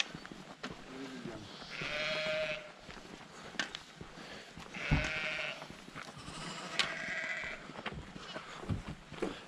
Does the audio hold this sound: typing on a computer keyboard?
no